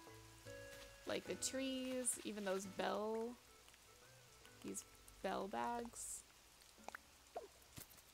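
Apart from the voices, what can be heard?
rain falling in video game Animal Crossing New Horizons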